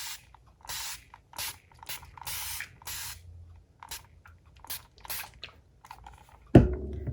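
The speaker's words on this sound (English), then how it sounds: "Now I'm going to just spritz it." Spray bottle spritzing a hand-painted world map, a quick series of short, close hissing bursts with brief pauses between them and a soft thump at the end, no talking.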